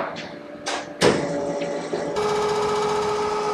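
A manual machine tool cuts a part for a sprint car race engine in a one-man shop, a steady mechanical whir with a sharp knock near the start and a louder, even grinding hum that holds to the end.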